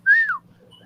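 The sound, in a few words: wolf whistle imitated by voice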